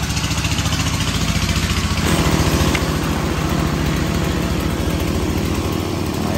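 A 2014 Stihl 170C chainsaw with assisted starting runs close by, its small two-stroke engine holding a loud, even, buzzing idle from start to finish.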